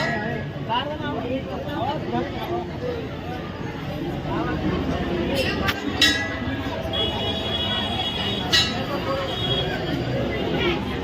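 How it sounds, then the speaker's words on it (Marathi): A crowd at the Waghoba temple in Palghar during the Mahashivratri festival, a steady hubbub of many voices with occasional clinks and bell-like rings, a person talking nearby over it. "खूप गर्दी आहे आज"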